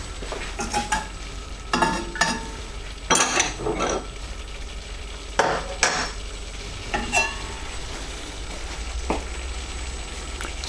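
Spoon stirring ground almonds into a chicken korma curry sauce in a pan, with repeated scraping strokes and light clinks over a steady low sizzle, close and moderately loud, no talking.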